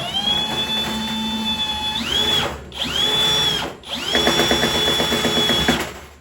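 Power drill boring a small, shallow pilot hole as a guide, its motor whining steadily in several bursts with short pauses and pitch shifts as it bites into the material, close and loud.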